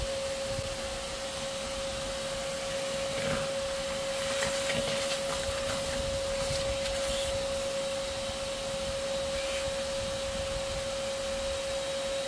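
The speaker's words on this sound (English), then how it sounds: "I'll vacuum everybody up and there won't be anybody left" A vacuum cleaner used to suck up hornets from a nest runs continuously with a steady whine and airy hiss, broken by a few faint rattles from sucked-in debris or insects.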